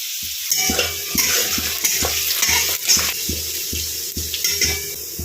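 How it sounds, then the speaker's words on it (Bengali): Chopped onions hit hot white oil in a pan, giving a loud, steady close sizzle broken by regular scraping strokes of a stirring spoon, with no talking. "তেলটা গরম হয়ে গেছে। পেঁয়াজ দিই।"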